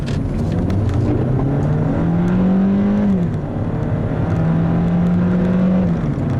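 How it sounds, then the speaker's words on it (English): A 2011 Hyundai Elantra's 1.8-liter engine revs hard, its pitch climbing steadily, dipping briefly at a shift, then droning on loud and close with a whirring tone. "it makes its presence known when you really get on that throttle"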